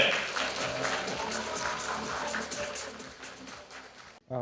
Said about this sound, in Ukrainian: Тож підтримайте їх бурхливими оплесками!